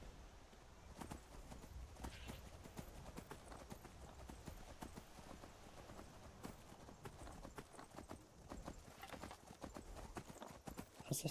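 A horse in the video game Skyrim clops along at a steady walking pace, hooves striking in a regular sharp rhythm, faint and close over low ambient hum.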